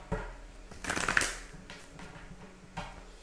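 Tarot cards being shuffled by hand in a burst of papery riffling and rustling that peaks in the middle, then settles into quieter handling with a small tap near the end; no talking.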